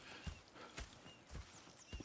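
Horses at a camp in Red Dead Redemption 2, with a few soft hoof clops and snorts at moderate distance over quiet ambient background.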